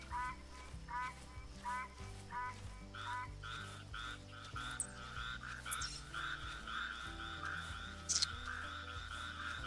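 Frogs croak steadily in the background of a hunting game, a dense chorus of repeated rhythmic calls layered over a constant low ambient bed, moderately loud throughout with no speech.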